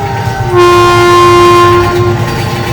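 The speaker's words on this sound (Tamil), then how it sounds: "தூரத்து ரயில் ஸ்பீடா வந்துச்சு" A train horn blares loud and steady, a sustained chord that swells in as the train rushes near, with rumbling wheels underneath.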